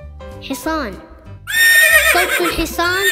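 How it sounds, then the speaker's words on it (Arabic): Horse neighing: a short whinny up front, then a longer, loud, shaking neigh that fills the second half, close and alone. "صوت الحصان صحيل"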